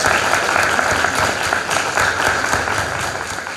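Loud, sustained applause greets students at a diploma ceremony after their exams, a thick crowd of many hands clapping steadily throughout, filling the room without letup.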